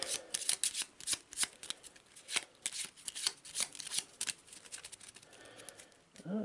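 Close up, a deck of skill cards for the Arkham Horror board game is riffle-shuffled and handled with quick papery flutters and snaps in irregular bursts. The sound is fairly quiet and there is no talk.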